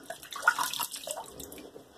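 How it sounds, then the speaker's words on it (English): Running water rinsing shave cream off a shaving brush, a soft, uneven splashing and trickling with small bursts, fairly quiet and close, no talking. "let me rinse that off"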